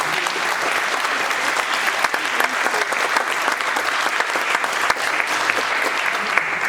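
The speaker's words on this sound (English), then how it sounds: "So please, can we give them all a round of applause?" Steady, dense applause from a town meeting audience at a State of the City address, filling the hall evenly and continuously without voices over it.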